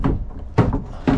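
A drawer in a 2024 Wolf Pup 17JW camper is pulled open and catches on its stop, giving a few short, close wooden thunks and clacks with no talking.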